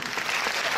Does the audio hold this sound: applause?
yes